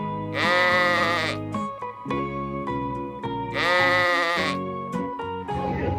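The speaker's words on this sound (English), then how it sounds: "The sheep says," Two long, loud sheep bleats with a quavering, harmonic-rich voice, separated by quieter animal sounds and music-like tones in a children's animal-learning setting.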